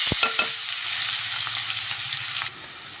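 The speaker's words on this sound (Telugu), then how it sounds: "ఉల్లిపాయలు పచ్చిమిరపకాయలు వేస్తున్నాను" Onions and green chillies sizzle loudly in a hot pan of oil for a curry. A steady, close crackling hiss continues throughout, with a few stirring knocks near the start and a slight drop in intensity near the end.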